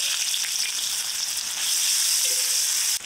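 Chopped onion frying in hot oil in a kadai with a bay leaf, dried red chilli and whole cumin, a steady close sizzle with no talk.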